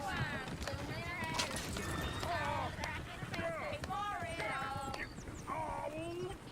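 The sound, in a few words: horses galloping in Red Dead Redemption 2 video game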